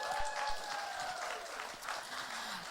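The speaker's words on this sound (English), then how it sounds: "Please give a round of applause for them." An audience at a London arts venue applauds in a steady, dense patter of clapping that holds throughout, fairly distant, with faint murmurs beneath.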